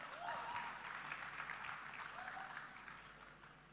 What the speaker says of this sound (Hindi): जोरदार तालियां हो जाएं फॉर सर अवध ओझा